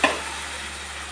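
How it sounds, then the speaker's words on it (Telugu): Cooked rice is stirred into a sizzling tempering in a pan for lemon rice, opening with a short scraping stir, then a steady soft frying hiss. "తాలింపులో అన్నం వేసి మంచిగా కలుపుకుందాం"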